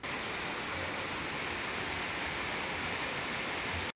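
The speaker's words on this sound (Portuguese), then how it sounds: "Esse barulhinho que vocês estão ouvindo no fundo é de chuva" Steady, dense hiss of rain falling in the background, continuous and even throughout with no voices over it.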